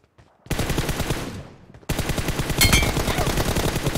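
Rapid automatic gunfire rattles in the BGMI battle royale video game, a dense burst that cuts off briefly before a second sustained volley of sharp, evenly spaced shots.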